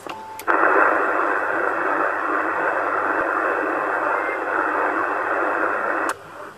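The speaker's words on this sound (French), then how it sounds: "J'ai entendu un mini Roger Beep là, à l'instant." Over CB radio channel 27, a short mini roger beep tone sounds at the start, then a loud, steady hiss of radio static carries on for several seconds before cutting off with a click.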